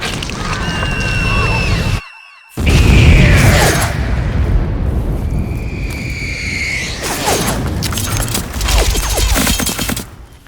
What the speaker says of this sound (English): Major, why do they keep exploding?